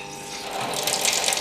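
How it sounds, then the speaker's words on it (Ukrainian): A cold-water tap runs in a steady hiss of flowing water, close and continuous, growing slightly brighter toward the end. "То кран холодної води."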